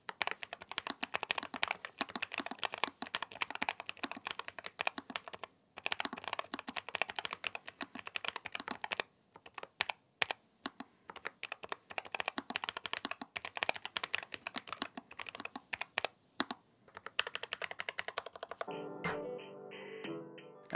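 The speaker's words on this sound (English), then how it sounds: "It's time for sound test." Rapid, continuous typing on a NuPhy Air75 V2 low-profile mechanical keyboard, with crisp clicks in steady bursts and a few short pauses, close and clear, ending with a brief different rattling noise.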